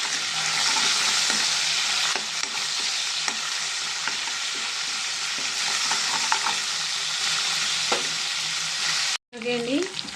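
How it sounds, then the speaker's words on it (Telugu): Two green chilies and curry leaves frying in oil in a pan, a loud, continuous sizzle with occasional stirring scrapes, cutting off abruptly near the end. "తర్వాత దీన్ని ఫ్రై చేద్దామండి. దీంట్లో 2 పచ్చిమిరకాయలు, కొంచెం కరివేపాకు వేసుకున్నామండి"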